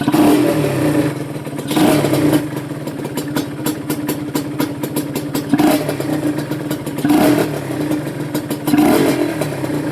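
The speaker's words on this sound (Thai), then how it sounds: "เดี๋ยวสตาร์ทให้ฟัง ก็เร่งไม่ค่อยขึ้นเท่าไหร่" A Honda NSR150R motorcycle with a non-working power valve idles unevenly, broken by several loud revving bursts that climb sluggishly and fall back, heard close up.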